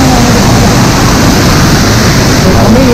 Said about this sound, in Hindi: कितने फ्लो में ये देखो झरना बह रहा